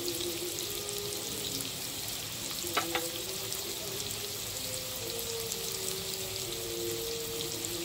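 Potatoes seasoned with salt and turmeric fry in a pan, giving a faint, even sizzle that crackles continuously with a few brief stirring clinks and no voices.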